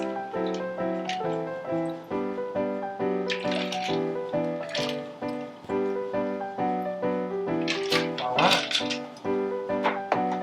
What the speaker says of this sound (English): And then you want to just pour into your cocktail glass.